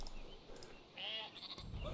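Sheep bleating in the strategy game Northgard, one short, faint, wavering bleat over a quiet ambient background, with no talk.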